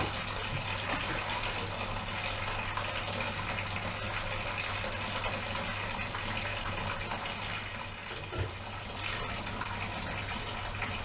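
Wine in a home garage winery pumped through a return funnel, a steady close gushing and splashing of liquid that runs continuously without pause.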